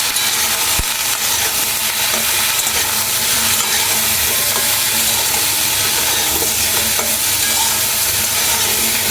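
Spinach with turmeric stirred in a hot pan: a loud, dense wash of sizzle and scraping that runs continuously, with one sharp knock near the start, no voices.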